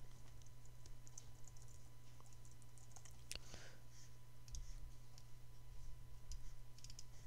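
Typing on a computer keyboard to enter text, a faint scatter of light clicks over a steady electrical hum, close and without talk.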